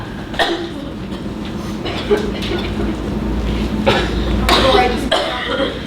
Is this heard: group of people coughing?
yes